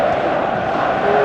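Loud, steady roar of a football stadium crowd at Sweden versus Argentina, a broad massed cheer with no distinct voices standing out.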